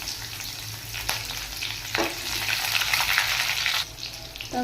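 Cumin seeds, poi (Malabar spinach) leaves and green chilies frying in hot oil, a loud continuous sizzle with surges as ingredients drop in and occasional stirring scrapes, no voices.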